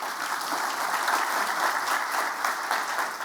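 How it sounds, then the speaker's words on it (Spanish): Steady applause from an event audience honoring the university rector, dense and continuous clapping at full volume throughout, with no voices standing out. "Un aplauso para nuestra rectora, por favor."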